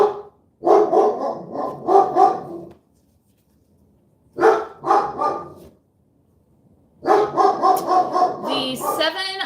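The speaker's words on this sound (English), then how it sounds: "there's a dog walking by" A passing dog barks in three separate bursts of several close, loud barks, each run separated by a few seconds of quiet, with some whining yips in the last burst.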